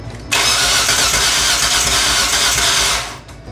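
A Kia Sportage engine with compression on only two cylinders cranks continuously for about three seconds with a loud, rough whirring and does not catch, then cuts off.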